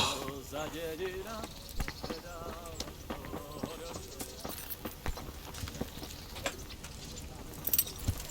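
Horse hooves in a video game clip-clopping at a steady walking pace, close by, with voices talking over them.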